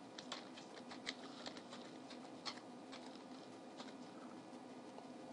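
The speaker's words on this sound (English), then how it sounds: "I'm just going to type it here" Scattered keystrokes on a computer keyboard, soft irregular clicks close by with brief pauses, over a faint room hum.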